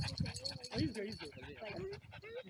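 A dog out on a walk makes short panting and whimpering sounds nearby, mixed in with people talking close by.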